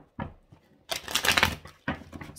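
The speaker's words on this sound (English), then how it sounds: "Let's go ahead and shuffle." Tarot cards being shuffled give short bursts of papery riffling and slapping, with one longer, louder flurry in the middle, close by and with no voice over them.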